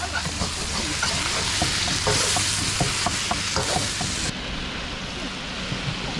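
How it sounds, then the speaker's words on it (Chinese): Chicken and pork being stir-fried in a pan, a steady loud sizzle broken by the clatter of a spatula as the meat is tossed, which then settles into quieter frying. "来，猪肉已经炒好了，把鸡肉放进去。"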